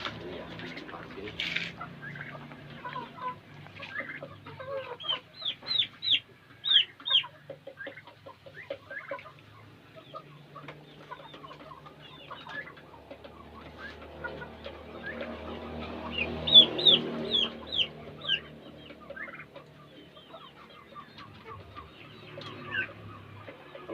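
Free-range village chickens clucking and calling in a pen during vaccination, a mix of close, fairly quiet clucks and sharper calls, with bursts of activity and faint background voices.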